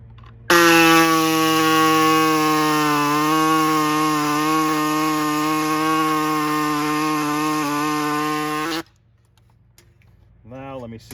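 A loud, steady power tool whines as it cuts through a fiberglass mat on an arcade control panel, running continuously for several seconds before stopping abruptly, followed by a short burst of another sound.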